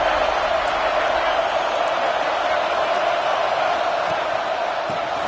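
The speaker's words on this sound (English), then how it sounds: "And here comes the noise. This crowd is trying to inspire this defense to make a big red zone stop." Continuous roar of a stadium crowd in an NCAA 26 college football video game, Ole Miss against Georgia, building noise for a red zone defensive stand, a dense wash of cheering with no clear voices.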